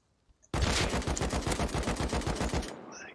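Rapid automatic gunfire in the survival game Rust, a single sustained burst of about fifteen evenly spaced sharp shots lasting roughly two seconds, loud and close, with no talk over it.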